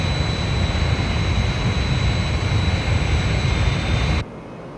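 Fireflash airliner's jet engines droning in flight in an audio drama, a steady loud roar with a thin whine above it that cuts off abruptly near the end.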